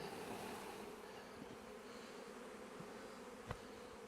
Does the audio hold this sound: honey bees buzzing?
yes